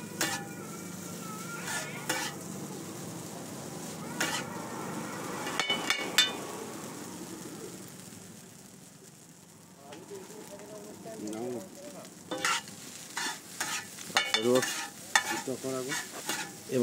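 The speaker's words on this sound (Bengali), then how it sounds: "ভালো করে ফ্রাই করো দাদা ভাই" Egg chicken chowmein stir-frying in a pan, with metal utensils scraping and clanking against it over a steady sizzle, brief quieter stretch in the middle, then busy clattering stirring resumes; voices and background chatter mingle in.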